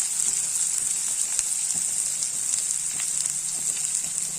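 Onions sizzle steadily in a hot frying pan for paneer pepper masala, a constant hissing crackle with occasional faint pops and scrapes.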